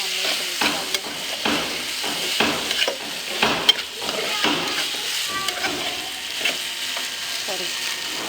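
A spoon stirs a macaroni mixture in a pan on the stove, making steady repeated scraping strokes over a soft sizzle, close and clear with no talking.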